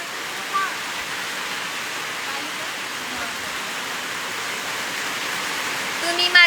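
Heavy rain pouring near Miraj, a dense, steady roar of broadband noise lasting throughout, with a few brief louder bursts near the end.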